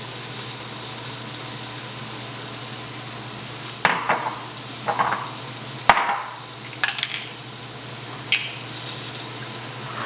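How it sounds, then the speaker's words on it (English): Sautéed onions stirred into quinoa in a pan over medium heat, with a low sizzle and a few scraping strokes of the spoon against the pan, close and steady with no talking. "we're gonna go ahead and incorporate our sauteed onions back into the quinoa"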